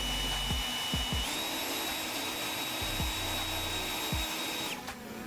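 Blowers push air at a hovering Skyrover S1 drone, making a loud, steady roaring rush with a high whine that rises partway through, under low motor thumps, then cuts out near the end.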